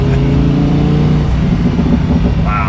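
A Lamborghini Huracan in Corsa mode revs loudly and close up, a dense, sustained engine roar that holds steady and then shifts character near the end, with no talk.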